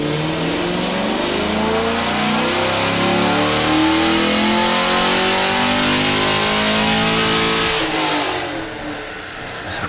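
A 2016+ Camaro SS V8 revs hard on a chassis dyno, one loud sustained pull climbing in pitch before easing off near the end.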